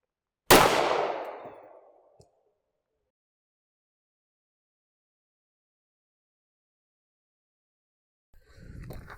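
A single sharp handgun shot from Remington 9mm ammunition, loud and close, its echo fading over about a second and a half, followed by long silence and then faint rustling near the end.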